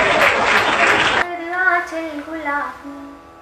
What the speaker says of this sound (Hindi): आज तालियां बजाए।